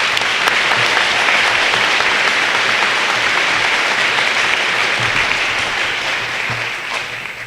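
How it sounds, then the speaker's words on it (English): Audience at a school commencement ceremony applauds student speakers, a dense, sustained wash of clapping that stays loud throughout and tapers slightly at the end. "Let's give them a round of applause."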